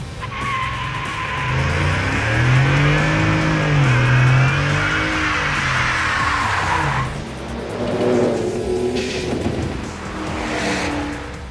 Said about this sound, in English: we take a closer look at Ford's new 2021 F-150, and yes, it still does burnouts